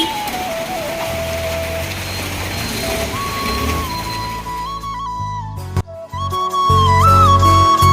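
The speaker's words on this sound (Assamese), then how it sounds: "কিমান পূৰা ঢালি আছে, ধাৰাসাৰ মাৰি আছে, ধাৰাসাৰ।" Heavy rain pours down during a trip toward Shillong, a steady dense hiss of downpour heard from inside a vehicle, layered over a low engine drone and a thin tonal whine, growing louder near the end.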